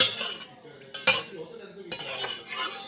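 A spoon clinks and scrapes against cups while mixing ingredients, with a sharp knock near the middle and brief bursts of stirring at close range.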